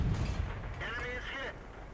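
An M4A3E8 Sherman tank gun fires in World of Tanks, a heavy booming blast at the start that rumbles away while someone talks over it.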